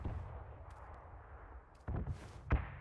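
Two sharp gunshots in a video game crack out near the end, the second louder and punchier, after a stretch of quiet ambient game noise with no talk.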